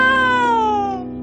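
A cartoon cat gives one long, loud meow that slides slowly downward and fades at the end.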